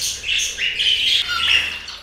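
Pet budgies and finches chirp and tweet in a bird room, with bright, overlapping calls close by and no talking.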